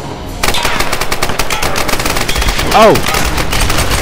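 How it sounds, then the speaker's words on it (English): Rapid automatic gunfire bursts loudly and continuously in a Tomb Raider multiplayer match, near and dense from start to end, with a man's brief exclamation breaking through partway. "Oh crap. I'm being shot at!"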